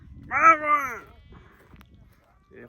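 A single clear, wavering bleat from a nearby sheep, followed by quiet with faint rustling.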